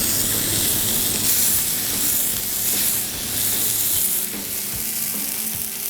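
Smash burger patties sizzling in oil on an outdoor griddle, a loud steady close hiss and crackle that fills the whole stretch with only slight dips in level.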